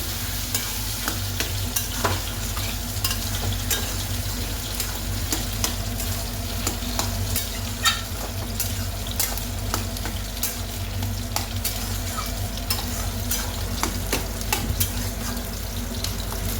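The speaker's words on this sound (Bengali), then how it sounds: "ঢাকনাটা তুলে একটু নাড়া দিয়ে দিন নাহলে লেগে যাবে" Taro leaves and prawns are stirred in a pan, a continuous close frying sizzle under repeated scraping and clinking strokes of a spoon, with no voices.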